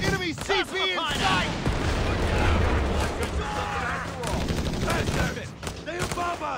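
Gunfire rattles in Company of Heroes 3 as dense, continuous bursts of rifle and machine-gun shots, with booming impacts, under shouted soldier voices.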